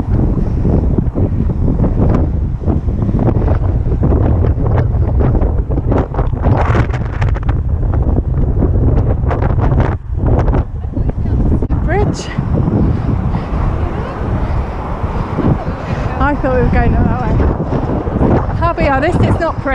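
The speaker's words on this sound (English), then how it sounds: "It's very windy." Strong gusting wind on an open coast path near the River Severn, close to the bridge and the tunnel crossing, buffeting the microphone in loud, steady rumbling roars, with a person talking over it.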